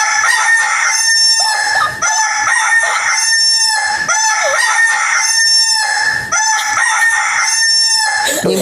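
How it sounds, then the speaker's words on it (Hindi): A rooster crows loudly and close, repeating the long cock-a-doodle-doo several times in steady succession, with barely a pause between calls. "ये मुर्गी क्यों भौंक रहा है?"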